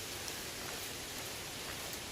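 Light morning rain falls on the Appalachian Trail, a soft, even hiss of drizzle close around with no talking.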